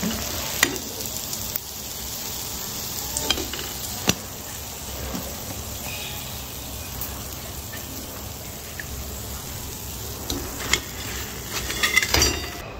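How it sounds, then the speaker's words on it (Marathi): Bread potato patties fry in hot oil with a constant close sizzle and crackle, and occasional clinks and scrapes from turning them, with no speech. "आता ह्याच पद्धतीने आपण हे सगळे पॅटीस तळून घेऊ"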